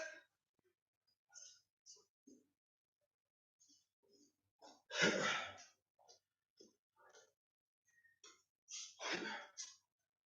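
A person breathing heavily after taekwondo exercise, with sharp, irregular gasps and exhalations separated by silent pauses and two louder, longer breaths partway through and near the end.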